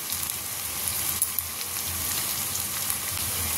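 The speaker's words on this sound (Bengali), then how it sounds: "দেখো পেঁয়াজগুলো লাল লাল করে ভাজা হয়ে গেছে, এবার এতে মশলাগুলো দিয়ে দেবো" Spices sizzle and fry steadily in a pan with onions browned to a deep red, a continuous dense crackle at close range with no pauses, for a mutton keema and chana dish.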